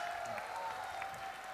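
An audience applauding at a stage event in a hall, a steady wash of clapping from a crowd heard at moderate distance throughout.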